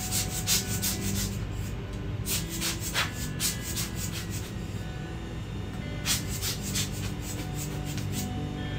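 Gear is rubbed to clear off dust while being cleaned, making repeated scratchy rubbing strokes in bursts over a steady low hum, close and fairly loud with no talking.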